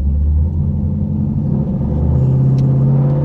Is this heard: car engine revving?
yes